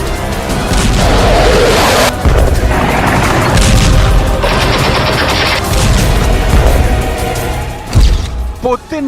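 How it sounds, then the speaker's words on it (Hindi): Heavy booms and crashing blasts from air strikes in Syria, dense and continuous with several impacts in quick succession, loud and rumbling, with a voice talking over parts. "एक जोरदार धमाका हुआ।"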